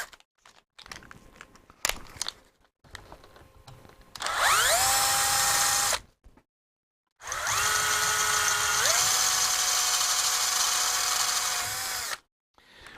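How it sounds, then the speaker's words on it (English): A power drill with a 3.5 mm bit enlarges a hole in a Cossor CR4212A set, running in two whining bursts that rise in pitch, after quieter handling noises, up close and alone. "So I just need to make that hole ever so slightly bigger to clear it."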